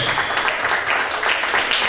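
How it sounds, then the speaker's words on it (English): Steady applause from a crowd at an end-of-year party, dense clapping holding at an even level for the whole moment. "This year, please let us give an applause for our women."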